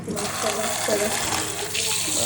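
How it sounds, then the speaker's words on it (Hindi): Water pours steadily into a bucket for washing potatoes in a village kitchen, a continuous splashing rush, with a voice speaking faintly underneath. "चलो फिर जो है ना हम इधर बाल्टी में जो है ना पानी वगैरह भरेंगे"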